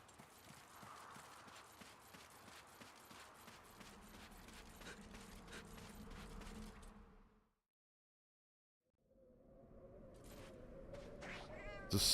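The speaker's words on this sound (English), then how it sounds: "Alright, we got cats over here." Cats meowing repeatedly in Monster Hunter Generations Ultimate, mixed with clip-clop-like footsteps and game ambience, cutting to near silence for a moment before the game sounds return louder.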